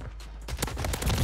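Dual submachine guns firing in Modern Warfare 3, loud rapid bursts of closely spaced shots that continue through the whole moment, with no talk over them.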